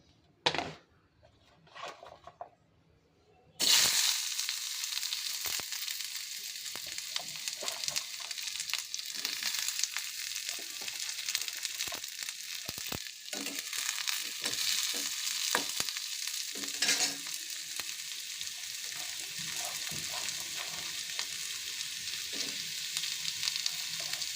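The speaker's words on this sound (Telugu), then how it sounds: "తర్వాత ఒక బాండల్ తీసుకొని కొంచెం ఆయిల్ వేసి ఉల్లిపాయలు టమాటోలు వేయించుకోవాలి" Onions and tomatoes fry in a little oil in a kadai for egg masala curry: after a few quiet knocks, a loud steady sizzle starts abruptly and runs on with scattered stirring scrapes.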